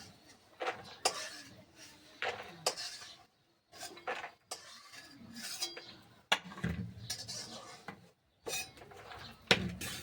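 Fried peanuts lifted from hot oil into a dish, heard as irregular metallic clinks and scrapes of a utensil against a pan and plate, with brief pauses between bursts and a little background talk.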